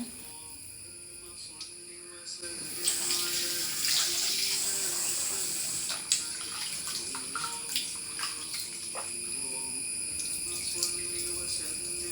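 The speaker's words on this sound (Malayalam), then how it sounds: "ഇനി അതിപ്പോൾ നല്ലോണം ഒന്ന് ക്ലീനായിട്ട് കിട്ടുന്നവരെ ഒരു മൂന്നാല് വെള്ളത്തിൽ നന്നായിട്ടൊന്ന് കഴുകിയെടുക്കട്ടെ" Rice being washed by hand in a vessel of water, with a steady wash of running or sloshing water and scattered clinks and splashes close by; no talk.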